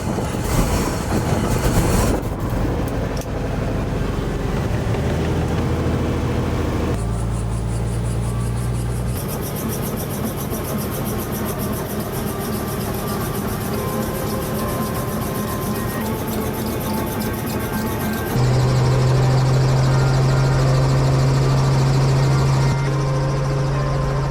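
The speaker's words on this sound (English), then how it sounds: "since your ears are protected, I'm going to start the engine" A tour helicopter on Kauai spins up, its turbine whine and rotor noise building in distinct stepped stages over about twenty-four seconds, loud and close with shifting tonal hums and no talking.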